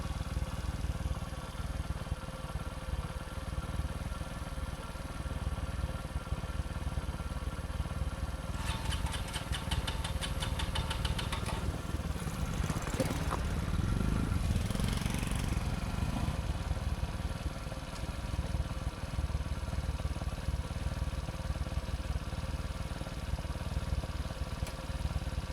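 A motorcycle engine runs steadily nearby at a low, even idle for about half a minute, with a brief louder rattle partway through.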